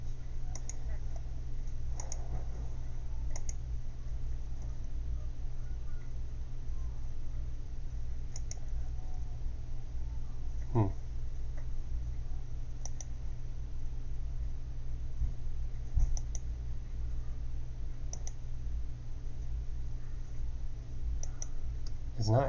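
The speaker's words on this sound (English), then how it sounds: "See, I'm clicking." Computer mouse buttons click sporadically in a quiet room, sharp small ticks spaced seconds apart over a faint steady hum, with no one speaking.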